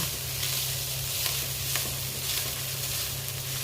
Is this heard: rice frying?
yes